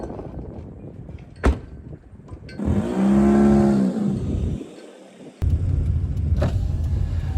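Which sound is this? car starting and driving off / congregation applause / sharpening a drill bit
car starting and driving off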